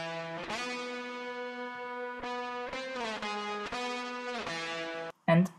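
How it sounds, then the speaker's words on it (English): An electric guitar run through the Dom, Fuzzploid and Nell plugins plays sustained, saturated chords and notes with chorus-like width and echo. It stays at a steady moderate level and ends in a short sharp burst. "I used these three to make a guitar tone that I enjoy quite a lot."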